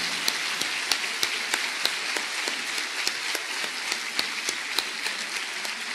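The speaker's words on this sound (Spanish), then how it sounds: "Dale un aplauso al Señor, hermano." A church congregation claps for the Lord, a dense wash of applause with sharper, regular beats running through it, steady and fairly loud for the whole stretch.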